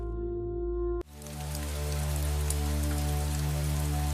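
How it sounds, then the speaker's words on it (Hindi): Heavy rain pours down steadily at night after a short quiet moment, a dense hiss of drops with a low musical drone sustained underneath. "रात के अंधेरे में बारिश की आवाज तेज हो रही थी"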